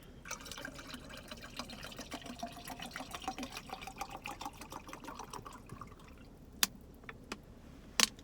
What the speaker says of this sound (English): Put some more water,